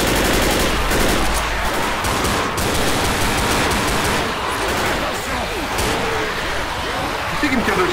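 Dense, continuous gunfire and chaotic game action from Left 4 Dead, loud throughout with shots and impacts layered over French-speaking players' voices.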